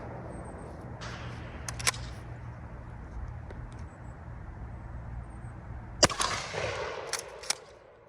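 A shotgun fired at an outdoor range while sighting in for hunting season: a few sharp reports, spaced seconds apart, over a steady low background rumble.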